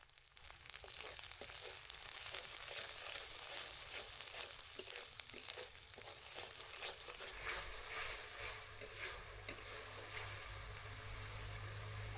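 Onions, garlic and spices fry in a hot pan, giving a steady crackling sizzle throughout with faint stirring scrapes, heard close and alone with no talking.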